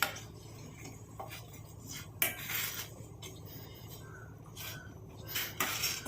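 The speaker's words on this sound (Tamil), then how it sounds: "நல்லா இந்த மாதிரி கொஞ்சம் நேரம் கலந்து விட்டால் போதும்." A spoon stirs a sugar mixture in a bowl, giving steady close scraping and clinking against the sides with a few louder knocks, no voices over it.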